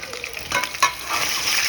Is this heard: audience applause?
no